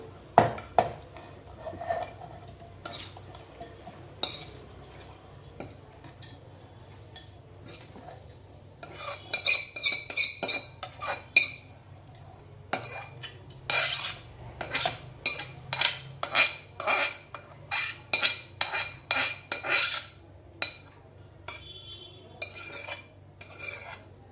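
Spoon scraping and clinking against a steel mixer jar as cooled mint chutney mixture is transferred for pudina pachadi, with a steady run of sharp metallic taps and scrapes that grows busier in the second half, close up and without speech.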